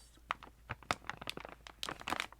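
Snack packaging for fall and Halloween treats is crinkled and rustled close up in quiet, with a steady series of sharp crackling bursts as the wrapper is worked open.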